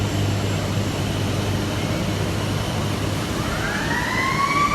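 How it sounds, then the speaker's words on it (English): Warning sirens sound for a moving overhead crane inside a steel plant's converter shop, a rising wail emerging near the end over a steady industrial roar. "So you hear lots of sirens every time the crane is moving."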